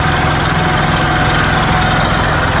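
A brand-new crack sealer's motor runs with its agitator engaged and sealant blocks loaded, making a loud, steady, close-up engine drone with constant vibration.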